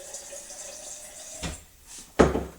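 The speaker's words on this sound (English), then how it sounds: "I'm going to add some clean water," Clean filtered water is poured while a juice or shake is being made, with a soft running trickle followed by two sharper splashes and clunks near the end.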